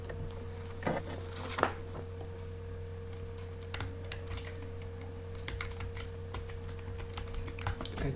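Someone types letters on a computer keyboard in MS Word. Scattered soft key clicks and a few sharper taps sit over a steady low electrical hum.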